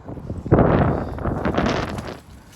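Wind gusting across the microphone outdoors on a dog walk, a rough low buffeting that swells sharply after a moment, rumbles on, then eases away.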